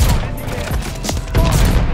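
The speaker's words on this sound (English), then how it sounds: "Oh, those shots were nasty." Sniper rifle shots ring out in the video game Call of Duty Vanguard, loud and close amid a dense, noisy burst of gunfire and booming echoes.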